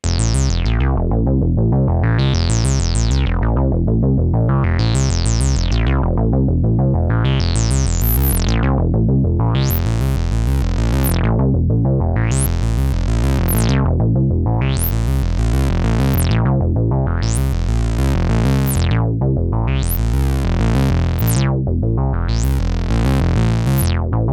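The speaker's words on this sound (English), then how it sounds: "I'll put them all back in and it'll sound like this" A loud, continuous Moog Muse synth arpeggio repeats rapid rising note sequences in an unbroken, even rhythm, growing brighter as it goes.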